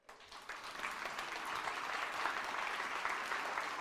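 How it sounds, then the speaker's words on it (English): A crowd of Maker Camp and Maker Camp Junior participants and audience breaks into sustained applause, rising quickly and holding a dense, steady wash of clapping throughout. "I want to give you a round of applause"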